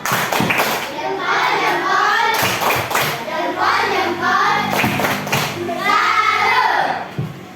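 A class group claps together in the tepuk salut routine after a school presentation, bursts of patterned clapping alternating with children's voices chanting and speaking, close and fairly loud.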